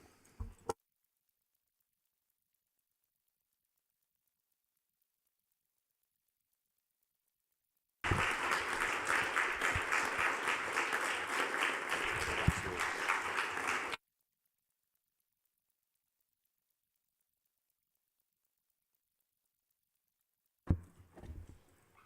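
A burst of applause from a council meeting audience during a medal presentation, lasting several seconds, surrounded by near silence.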